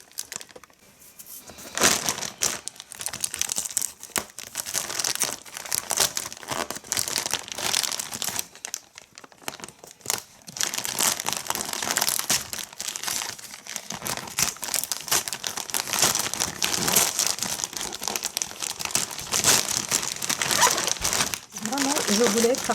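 A gift parcel is opened for a Mother's Day giveaway, its packaging crinkling and rustling in repeated close bursts of handling, with short pauses and faint talk underneath.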